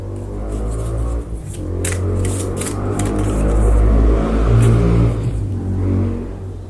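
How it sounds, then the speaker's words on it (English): Motorbikes roar past outside an open window, a steady low engine drone that swells louder toward the middle as the bikes pass, with faint rustling nearby. "I just happen to have my window open, and that's when all the bikes choose to go by."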